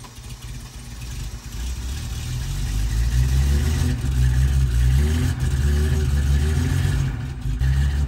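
A car engine turns over, catches and is held in steady revving, loud and close, with the sound swelling and staying strong for several seconds.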